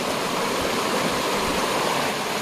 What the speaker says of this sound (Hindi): ये देखिए नदी का फ्लो